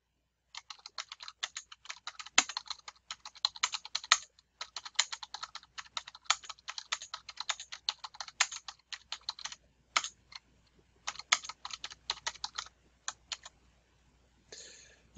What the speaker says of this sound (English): You type in your question up here.